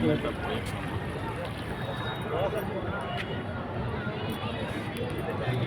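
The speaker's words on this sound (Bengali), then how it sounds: "লঞ্চ চলে গেল, আর একটা লঞ্চ আসছে, দেখো জলটা দেখো।" Steady broad wash of river water and a launch boat's low engine rumble on the Ganges at a ghat, with people talking under it.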